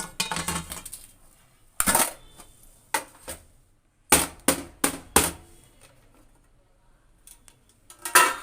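Knife cutting through set coconut burfi on a hard surface, a series of sharp clicking taps and scrapes, some in quick clusters, with quiet gaps between.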